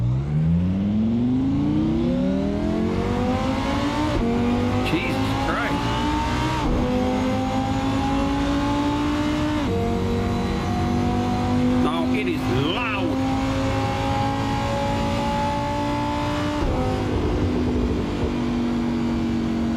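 A Lamborghini race car in Assetto Corsa revs hard through its gears, its engine note climbing loud and close, then dropping at each of several upshifts before rising again.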